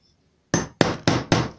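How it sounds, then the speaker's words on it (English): Four sharp hammer blows drive a hole punch through slipper material, evenly spaced about a quarter second apart, loud and close after a short silence. "you place your puncher there"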